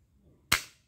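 A toy gun fires once, a single sharp, bright crack with a short decaying tail, loud and close against near silence.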